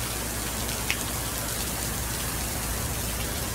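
Heavy rain pours steadily, a dense hiss of drops striking surfaces nearby, unbroken for the whole stretch.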